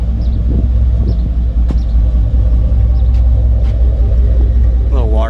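An S10 prerunner pickup truck's LT1 V8 engine idles with a loud, steady, deep rumble close by, never letting up.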